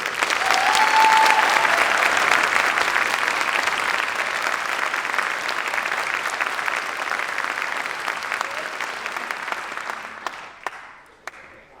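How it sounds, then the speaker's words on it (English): An audience applauds orchestra students and their teachers at a high school all-county orchestra concert, steady dense clapping that fills the room and then thins out and fades in the last couple of seconds. "So if you don't mind giving applause for their teachers and the kids again."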